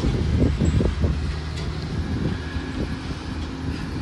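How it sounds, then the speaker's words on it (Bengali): Strong wind buffets the microphone at a seaside bus stop, a loud, low, gusty rumble that stays constant throughout with no voices. "প্রচণ্ড জোরে হাওয়া চলছে"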